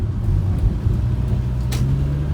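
A 1989 Nissan S-Cargo with an automatic transmission driving at low speed as it turns onto a residential street, a steady low engine hum and road rumble inside the cabin, with a brief click partway through.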